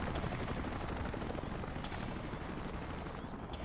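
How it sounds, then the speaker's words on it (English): Helicopters flying in Xenoblade Chronicles X, a steady loud rotor thrum filling the whole stretch without a break, with faint higher whines drifting across near the end. "Helicopters are heading out."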